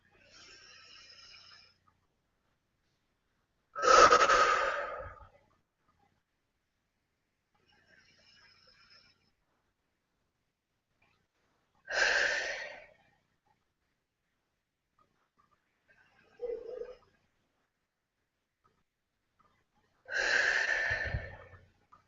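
Slow, deep breathing during a guided meditation exercise, with long audible inhales and exhales spaced several seconds apart amid near silence, some louder and breathier than others.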